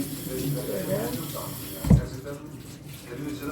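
Water from a tap runs steadily while a cleaning cloth is rinsed and wrung under it at a balcony sink, with a brief louder splash midway and someone speaking softly over the flow.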